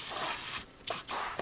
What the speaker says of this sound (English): Liberally spray it in.